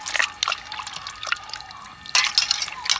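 Raw green mangoes being washed by hand in a basin of water, with splashing bursts and dripping, trickling sounds between them, close by and without speech.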